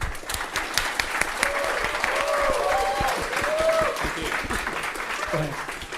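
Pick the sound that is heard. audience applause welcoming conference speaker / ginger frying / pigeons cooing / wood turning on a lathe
audience applause welcoming conference speaker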